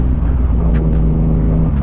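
A Yamaha MT-09 motorcycle engine drones steadily while riding, a continuous loud hum mixed with wind rush, heard from on the bike with no talk.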